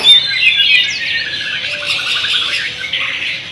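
A murai, a magpie-robin, sings close and loud in a continuous stream of bright whistles, chirps and rapid trills with no talking.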